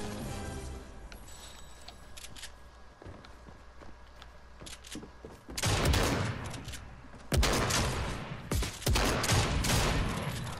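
SMG gunfire in the video game Fortnite: soft footsteps give way to two loud, sustained rapid-fire bursts, the second following after a short pause.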